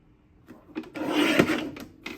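Paper trimmer slicing strips of scrapbook paper: a few short scraping and sliding sounds build to one longer rasping cut, followed by a light knock.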